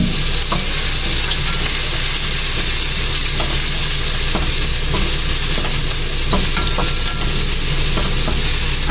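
Garlic frying in olive oil in a pan for octopus spaghetti, a steady loud sizzle with occasional stirring scrapes throughout, no talking.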